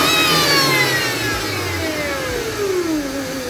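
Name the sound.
Mercedes-Benz W204 engine running with a stack intake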